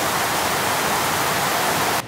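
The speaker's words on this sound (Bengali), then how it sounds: "কিন্তু অনেক জোরে বৃষ্টি হচ্ছে।" Heavy rain pours down in a dense, loud, steady hiss that fills the scene without a break and drops off sharply at the very end. No voices are heard.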